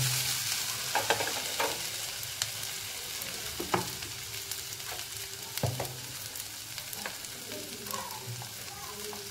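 Okra dry bhaji is stirred in a pan over a continuous sizzle, with repeated scraping and tapping of the spoon every second or two, close and clear with no talking.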